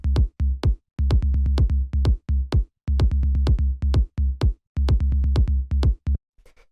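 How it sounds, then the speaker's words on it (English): Bristol-style techno low end, a kick drum layered with a bass tom, plays a punchy syncopated pattern of deep thuds in repeating bars, alone and up close, ending with a brief sparse tail. "we have the low end, which is made up of the kick and this bass tom"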